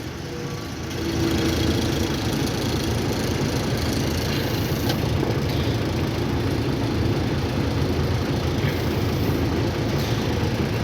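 A loaded truck engine idles steadily and loudly while sugarcane is unloaded in Surat, Gujarat, a continuous low rumble with faint clanks over it.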